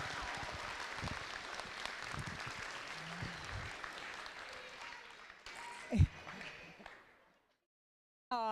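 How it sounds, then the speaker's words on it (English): An audience applauds Jerry at a solar league tournament. Steady clapping fills the room and thins out over several seconds into a few scattered claps, with a brief thump near the end before it falls quiet. "Let's give Jerry a round of applause"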